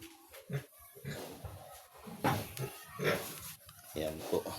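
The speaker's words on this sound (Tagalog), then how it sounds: "Magugulat na naman yung mga biik na yan." Piglets and a sow in a pig pen grunt and oink in short, uneven bursts close by, with squeals and rustling filling the gaps.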